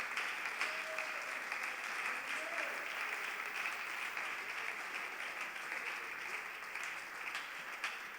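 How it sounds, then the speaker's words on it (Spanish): Steady applause from a church congregation during a Spanish-language worship service, a continuous wash of clapping at moderate level with no voices over it. "Dele un aplauso al Señor en esta hora."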